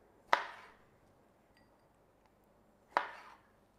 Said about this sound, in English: Now we're just going to cut the cherry tomatoes in half.